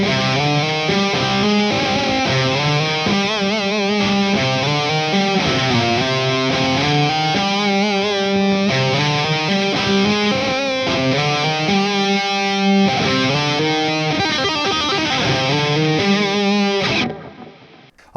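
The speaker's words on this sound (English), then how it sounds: "In this case I've got the MXR carbon copy delay." Electric guitar plays a continuous melodic line through an MXR Carbon Copy delay pedal, echoing repeats smearing notes together, loud and steady until it cuts off at the end.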